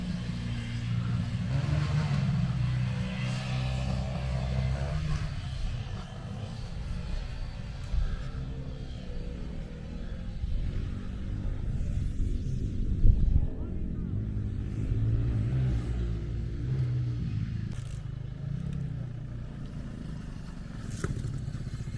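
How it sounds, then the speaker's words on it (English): Scrambler motorbikes ride around near an old crypt site, a steady low engine drone rumbling throughout with some clatter and a brief louder burst midway, while someone talks over it. "Away from those noisy motorbikes."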